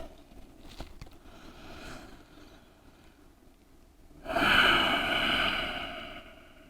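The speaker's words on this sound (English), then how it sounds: "breathe into those tight bits breaths" Deep breathing during a yoga session on a mat, a soft hushed breath followed by a louder, sustained exhale that swells near the microphone.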